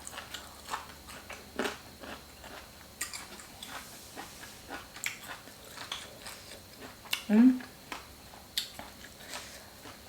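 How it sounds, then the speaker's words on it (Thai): Dried tamarind being bitten and chewed up close, with sparse soft crunches and sticky chewing clicks spread across the stretch and one louder bite near the end, over quiet room tone. "มะขามอบแห้ง อร่อยจ้ะ กินง่าย"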